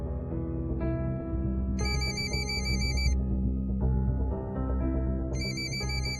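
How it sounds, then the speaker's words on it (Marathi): A mobile phone ringtone rings indoors in repeated bright electronic bursts, about two rings in a few seconds, with a faint murmur of room sound beneath and no talking. "मेहतांचा फोन आहे, घ्यावा लागेल."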